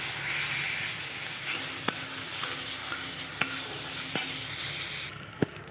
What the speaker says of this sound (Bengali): অল্প জল দিয়ে দিয়ে কষিয়ে নেব পেঁয়াজটা